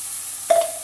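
Milk and coconut mixture hits a hot pan with a short, sharp sizzle that settles into a steady hiss, close by, with no talking.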